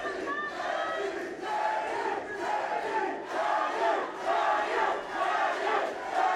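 An arena crowd at a boxing match roars and chants in rhythmic waves of cheering, fairly distant and reverberant, rising and falling in regular pulses.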